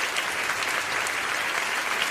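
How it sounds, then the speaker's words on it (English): A group claps loudly and continuously, a dense patter of many hands with no pauses. "Clap it up for Coach Dane, man."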